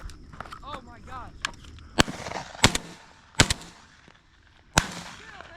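Shotguns firing at doves during a Texas dove hunt: four or five sharp, loud outdoor blasts spaced a second or so apart, with people talking and calling out between the shots.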